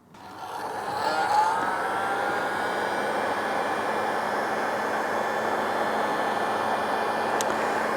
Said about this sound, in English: Give your heat gun about a 1-inch distance away from the heat shrink